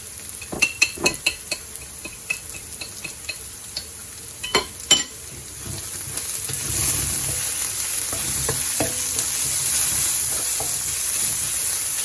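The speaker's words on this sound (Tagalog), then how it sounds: "Habang ginigisa yung sibuyas" Onions sauté in a pan, with several sharp clinks of a utensil scraping and tapping the metal at first, then a steady loud sizzle that swells and holds, close by with no voices.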